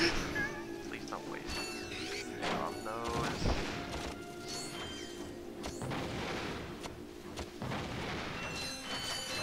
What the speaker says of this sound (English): Hey, look, explosions.